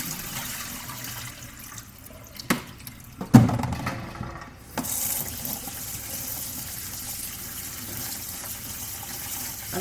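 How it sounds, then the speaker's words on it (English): Tap water runs steadily over leaves in a strainer, a constant close rush broken by a few knocks and splashes as the strainer is handled. "you rinse out as much dirt as you possibly can, both dirt and sand"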